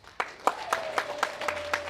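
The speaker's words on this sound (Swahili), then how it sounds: "Pigia Yesu makofi" A church congregation claps in unison at a Sunday service: seven or so sharp, evenly spaced claps about a quarter second apart over a soft sustained tone.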